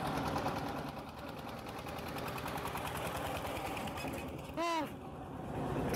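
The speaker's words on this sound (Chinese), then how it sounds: "有辆拖拉机" A rural tractor engine chugs steadily along a countryside road, a rapid mechanical knocking throughout, with a brief higher whine or horn-like tone near the end.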